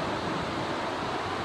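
Steady broadband rush of a waterfall in Linville Gorge, North Carolina, heard from a distance as a constant, even roar with no break.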